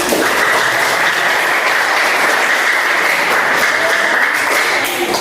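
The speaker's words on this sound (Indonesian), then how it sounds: "Tepuk tangan bersama." A school class claps together in a classroom, a steady dense roar of many hands at an even level throughout, with no talking over it.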